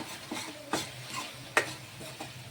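Kashi mango curry with chilli is stirred in a pan, a few distinct scraping strokes of a spoon against metal over a soft background sizzle, quiet and close with no talk.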